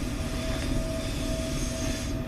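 A train running steadily along the rails on a travel journey, a continuous close rumble with a faint sustained whine on top, even in loudness throughout.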